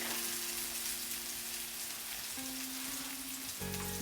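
Steak and onions frying together in one pan for steak hash, heard as a soft, even, rain-like sizzle that stays fairly faint and steady with a low background hum.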